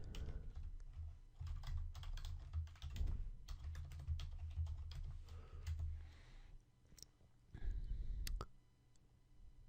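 Fingers type code on a computer keyboard in quick, irregular bursts of close clicking keystrokes, with short pauses between runs and no talking.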